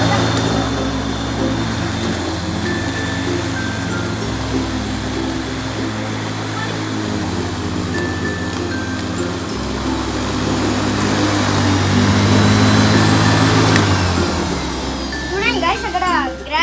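A lawn mower engine runs with a steady, droning hum that holds for the whole stretch, with faint voices of children in the background.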